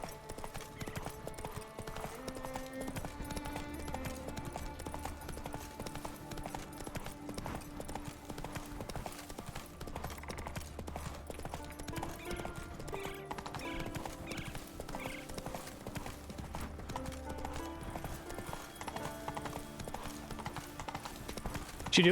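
Roach the horse from The Witcher 3: Wild Hunt trotting with steady clip-clop hoofbeats and occasional whinnies, heard over game music at moderate volume.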